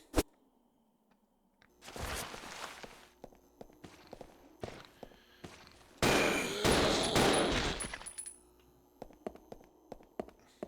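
Shotgun fire in a zombie video game: sharp, loud blasts and clattering bursts come in clusters with short gaps, along with footstep-like taps in between.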